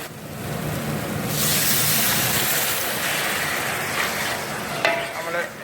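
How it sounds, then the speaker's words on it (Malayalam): Water splashes into a pan of sizzling masala for a mushroom coconut curry, bringing a surge of loud hissing and bubbling that swells and then settles, with clinks of stirring near the end. "അങ്ങനെ ഇച്ചിരി വെള്ളം ഇതിലേക്ക് ഒഴിക്കാം."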